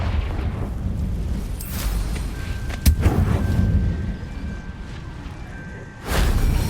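The Confringo explosive spell goes off in Hogwarts Legacy with a sharp burst amid a dense rumbling game soundscape, followed later by another loud whooshing blast near the end.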